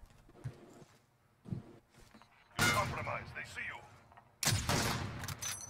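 Gunfire sounds in a 1v1 video game match, with two loud bursts of rapid shots and quieter scattered pops before them, heard with voices talking.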